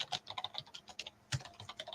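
Rapid keystrokes on a computer keyboard come close and clear, with an uneven clicking rhythm and no voices over it.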